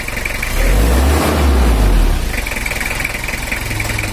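A Toyota Kijang diesel engine with rough running and low power is revved once, swelling to a loud, smooth roar for about two seconds before dropping back to a clattering, knocking idle.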